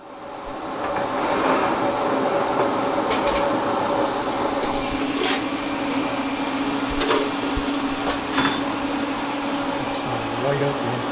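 Tack welds go onto a workpiece in short, crackling bursts, spaced a few seconds apart, heard over a steady mechanical hum of fan and machinery with faint voices in the background.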